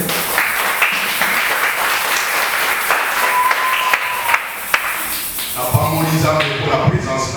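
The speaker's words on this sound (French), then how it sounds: "Acclamons pour la gloire du Seigneur." A church congregation claps and cheers in praise of the Lord, broad sustained applause with scattered sharper claps, tapering off as talk and shuffling take over near the end.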